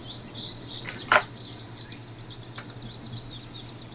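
Birds chirp again and again in a forest soundscape, with quick high tweets repeating through the clip over a steady low hum and a soft background hiss.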